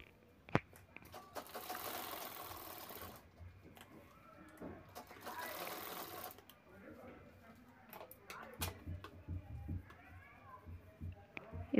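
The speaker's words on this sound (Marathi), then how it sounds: "इथे मी कट करण्याआधी शिलाई करून घेणार आहे" A sewing machine stitching a ladies' handbag with foam padding at home, running in two sustained whirring bursts with pauses and small handling clicks between them, quiet and close.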